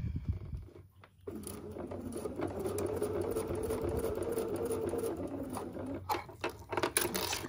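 A Bernina sewing machine stitches along fabric, running in one continuous, close mechanical whir for several seconds after a brief quiet start, with a few clicks and handling sounds near the end.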